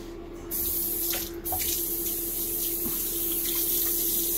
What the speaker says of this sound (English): now get your razor wet. Use hot water.